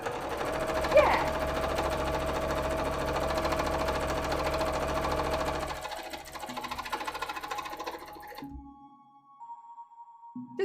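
Sewing machine stitching pieces of a Neeko cosplay from League of Legends, a rapid mechanical rattle running steadily for several seconds before slowing and stopping, followed by quieter room sounds.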